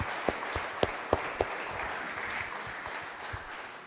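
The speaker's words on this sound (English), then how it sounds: "let's give these panelists a big warm round of applause" An audience applauds panelists at a company culture panel, a soft, moderately distant wash of clapping with a few sharp, close claps near the start, fading slightly over a few seconds.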